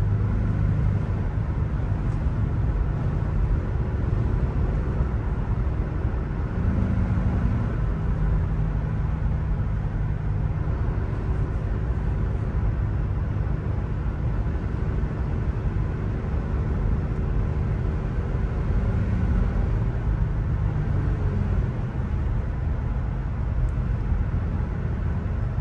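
A 2022 Honda TrailSport SUV accelerating in sport mode gives a steady, loud engine and road drone that holds evenly for the whole stretch, with no voices.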